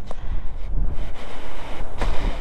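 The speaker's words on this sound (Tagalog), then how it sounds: "Grabe, kung papasin nyo guys, sobrang lakas ng hangin." Strong, gusty wind on the Pacific Ocean coast at Dingalan, Aurora, roars steadily across the microphone with low rumbling buffets and brief hissing surges, no voices.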